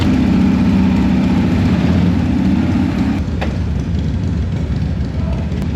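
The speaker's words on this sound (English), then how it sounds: "there's so many running bikes right now, I can barely hear it" Several Harley-Davidson motorcycle engines, including Panheads and a 1979 Shovelhead, idle together loudly and steadily up close, a dense continuous rumble with no pauses.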